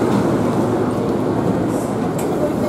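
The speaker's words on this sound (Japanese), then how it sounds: "特急フライナー元町中華街駅は東武の車両での運転です。" A Tobu Railway express train runs on the Tokyu Toyoko Line with a loud, steady rumble and roar of wheels and motors close by, continuous throughout with a faint high hiss.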